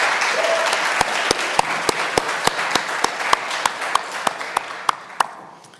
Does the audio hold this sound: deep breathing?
no